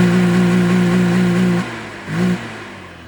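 An engine revved hard on the throttle to force water out of a belt box snorkel. It holds a loud, steady high-revving roar, drops off, then briefly revs again close up.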